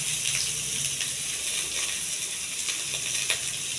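Onions, carrot and bean pieces fry in a pan with ginger and curry leaves for upma, a steady close sizzling hiss with faint clicks and no talking.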